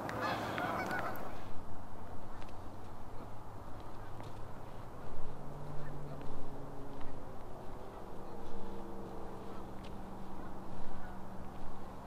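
A lone goose honks repeatedly by a high-level bridge on a Lethbridge riverfront in winter, its calls irregular and moderately close over a steady outdoor hush.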